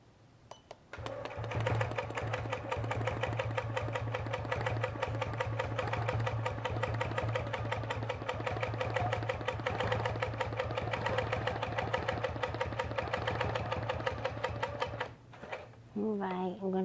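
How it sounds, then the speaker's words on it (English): A computerized sewing machine running automated quilting stitches with a quilting foot, a steady fast mechanical stitching rhythm that runs loud and continuous for about fourteen seconds before stopping, with a brief voice at the end. "I'm going to show you how to quilt it with the automation."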